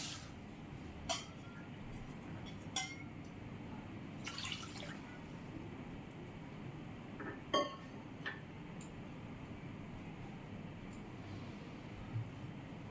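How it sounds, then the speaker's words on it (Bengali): Sugar and water go into a pan for syrup, one bowl of sugar to two of water: a brief hiss of pouring and a few faint clinks and drips over a steady low hum. "চিনিটা দিয়ে দিচ্ছি এক বাটি চিনি দু বাটি জল"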